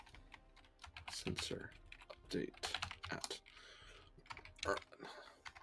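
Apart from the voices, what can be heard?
typing on a computer keyboard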